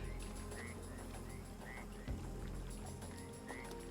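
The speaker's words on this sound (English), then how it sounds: "And the frogs chirping and croaking." Night ambience in the game Conan Exiles with frogs croaking and chirping, a steady wash of calls plus a few repeated rising chirps against a soft constant background, with no talk.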